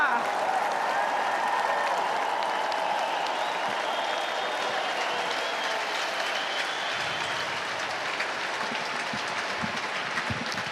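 A large convention crowd at the RNC applauds and cheers after Kimberly Guilfoyle's speech, a dense, sustained roar of clapping that stays loud throughout.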